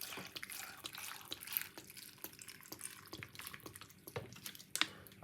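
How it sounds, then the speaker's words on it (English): Water poured into a homemade weight-loss drink mixture, a light splashing trickle with scattered drips running steadily for several seconds, close and fairly quiet, with no talking. "now we're gonna put a little bit of water inside of it like this"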